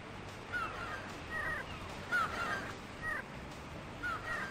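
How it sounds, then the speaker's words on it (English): Birds cawing in the video game Grandia, a series of about eight short, sharp caws spaced irregularly over a soft ambient background, moderately loud and alone. "Shut up, birds."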